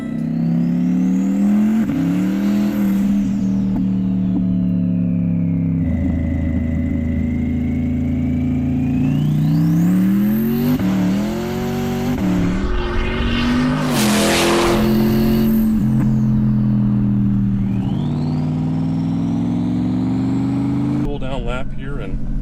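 Hennessey Performance twin-turbo 2020 Corvette C8 engine pulls up from about 3,000 RPM, rising and falling through gears with loud sweeping tones, under ongoing talk throughout.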